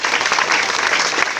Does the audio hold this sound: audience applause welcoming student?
yes